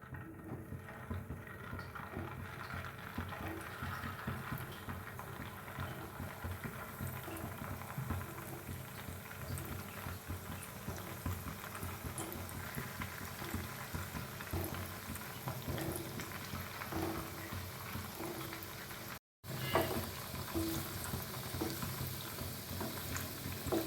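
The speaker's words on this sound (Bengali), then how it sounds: "সাদা তেল দিচ্ছি এই রেসিপিটা পুরোপুরি সাদা তেলেই আমি করব বলগুলো আমি ভালো করে ভেজে নেবো" Bread dough balls fry in white oil with a continuous close bubbling sizzle that stays steady throughout, with no talk over it.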